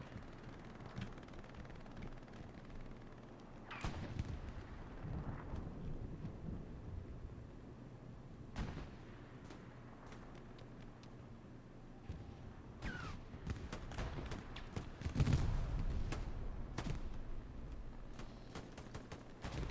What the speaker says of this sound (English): Was that mines? Is that why there was such a big explosion?